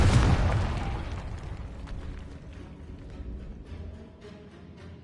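Confringo fire spell blast in Hogwarts Legacy, a single loud boom at the start that decays into a long rumbling, crackling tail with scattered debris pops.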